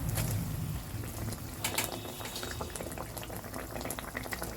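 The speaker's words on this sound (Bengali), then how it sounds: "ঝোলটা ফুটে এসেছে।" Spicy Pabda fish curry gravy with slit green chillies bubbles at a steady boil in a pan, a dense, continuous bubbling and hiss that stays fairly loud and even throughout, with no voices.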